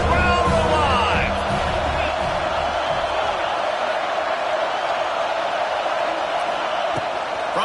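A college football stadium crowd roars steadily on a third-down red zone play, a dense, sustained wash of cheering voices throughout, with some louder whoops and shouts early on.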